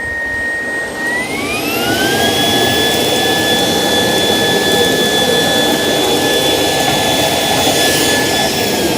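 A Shark PowerDetect Clean & Empty cordless vacuum (IP3251) runs loud and close, its whine rising in pitch after about a second as suction ramps up at an edge, then holding a steady high-pitched roar.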